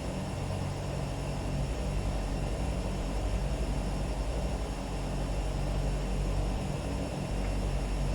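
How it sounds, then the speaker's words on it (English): A Realair turbine Beechcraft Duke BE60 taxis for runway 21 at Murrin Murrin, its turbine engines holding a steady, loud, unbroken drone with a constant high whine, no voices heard. "Kilo Papa Bravo is a Beechcraft Duke taxiing runway 21 at Murrin Murrin"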